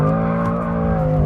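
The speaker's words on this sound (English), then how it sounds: "Yeah, it goes sideways really easily." BMW M6 twin-turbo V8 with stability control off sliding sideways on heated rear tyres, a loud, close, sustained engine drone with steady harmonic tone and faint tyre scrub underneath.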